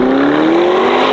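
Novitec Lamborghini Urus in Corsa mode, its engine giving a loud close droning growl with a pitch that climbs slowly as it revs, brief and without speech.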